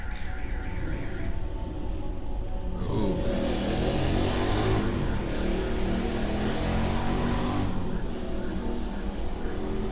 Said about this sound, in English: there was a motorcycle doing a lot of noise up there